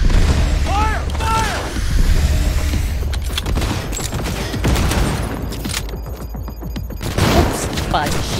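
Heavy rapid gunfire and booming blasts in the video game Cyberpunk 2077, dense volleys running throughout, loud and close, with a player's voice talking over the shooting.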